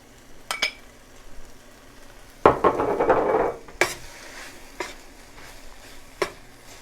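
Paprika and tomato paste being stirred in a frying pan with a utensil, giving a loud scraping, sizzling burst midway and scattered light clicks and taps of metal on the pan around it, close by and with no talking.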